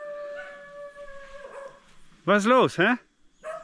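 Dogs in a remote Amazon village howl with long, wavering tones, then break into several sharp, close barks, while someone talks briefly in German.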